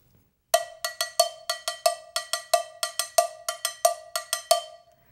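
Cowbell struck repeatedly while gripped tightly in the hand to damp it, giving short, dry, clanking hits in a steady, slightly uneven pattern, close and clear with no voices.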